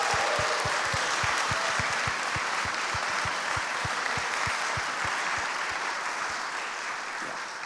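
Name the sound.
audience applause at live horror game awards show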